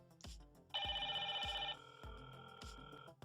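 A Hikvision Gen2 IP intercom indoor handset rings for a call from the second door station. A steady electronic tone lasts about a second amid repeating low chime notes, faint and with no voices.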